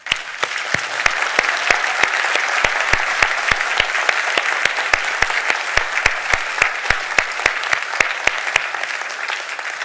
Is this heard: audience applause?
yes